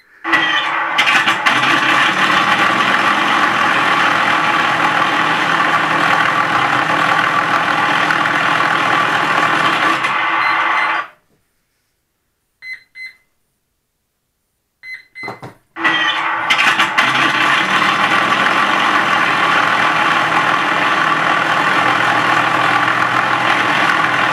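Simulated engine roar of a Flightline RC F7F-3 Tigercat twin-engine warplane model, played through its ESS Air Sound speakers, loud and steady for about ten seconds, cutting to near silence with a few faint ticks, then starting up again at full volume.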